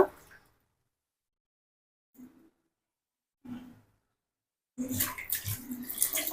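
Leafy greens for a curry are rinsed by hand in water. Brief soft splashes separated by silence build into a longer, busier stretch of sloshing and dripping up close.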